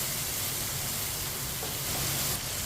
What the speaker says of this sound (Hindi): टमाटर को इसी तरह चम्मच चलाते हुए पकाना है ताकि टमाटर हमारे अच्छी तरह पक जाए।